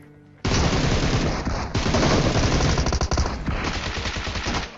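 Dense, continuous automatic gunfire from the mobile battle royale game PUBG Mobile on its Erangel map, loud rapid bursts layered with overlapping shots, starting abruptly and running almost without pause.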